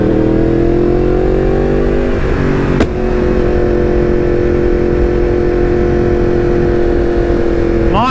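A Yamaha MT-10 motorcycle engine revs loudly and continuously up close, holding a steady harsh roar with a brief blip partway through.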